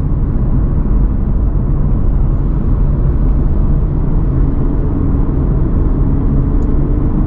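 Steady low rumble of a car driving slowly in a traffic jam in California, a continuous dense engine and road drone with no talk.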